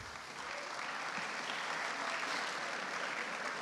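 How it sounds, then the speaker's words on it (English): Steady applause from an audience at a high school sports boosters celebration, a dense even wash of clapping that holds for several seconds without letting up. "Might be better to hold your applause"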